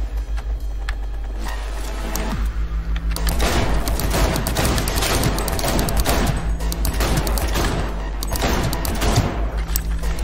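Rapid gunfire during combat in the video game Cyberpunk 2077, with loud, dense bursts of shots and impacts spread over a steady background of game sound.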